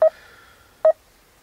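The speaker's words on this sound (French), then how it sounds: "Ah, coup de téléphone, on reprend plus tard." A telephone rings with two short, loud electronic tones spaced under a second apart, with quiet background between them.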